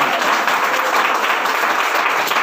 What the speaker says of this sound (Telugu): గట్టిగా చప్పట్లు కొట్టి ప్రభువుకి స్తోత్రం చేద్దా